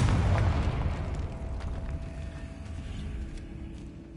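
A fiery Confringo blast spell erupts in the Hogwarts Legacy video game, a loud booming burst at the start that rumbles and decays into a lingering low roar with faint magical shimmer.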